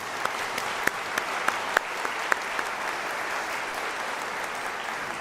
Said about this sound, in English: Let us give them one more round of applause for a job well done